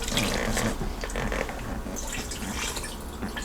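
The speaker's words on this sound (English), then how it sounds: "I'm going to add a little bit more water." Water is poured into a Ninja Foodi pot of cheeseburger pasta bake, a splashing, trickling pour that runs steadily for a few seconds against a little kitchen background noise, with no talking.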